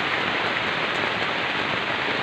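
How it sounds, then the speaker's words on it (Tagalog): Heavy rain drums steadily and loudly on a tent in an outdoor camping spot, a dense unbroken hiss filling the whole moment with no voices. "Lakas ng ulan."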